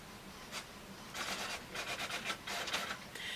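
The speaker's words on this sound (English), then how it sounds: "it's going to print to my default printer" A printer at home running off a printed page of a quilt block, with soft whirring bursts and brief mechanical passes of the print head, a faint sound that keeps going throughout with no one speaking.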